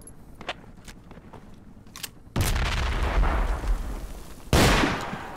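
A frag grenade goes off in the military shooter Project Reality: after quiet scattered taps, a loud, full explosion erupts and rumbles on, then a second sharp blast follows near the end.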